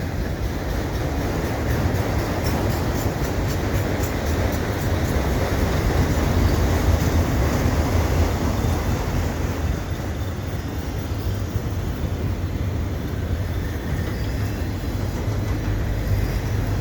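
A Canadian Pacific mixed freight train with auto racks rolls steadily past in winter at Dorval, a continuous loud rumble of wheels and cars with no break.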